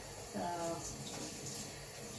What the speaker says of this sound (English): I just basically run it under the hot water tap and give it a nice smooth thing.